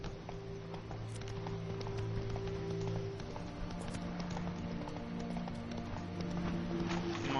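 A horse gallops in The Witcher video game, faint rapid hoofbeats clopping in a steady rhythm over quiet background music.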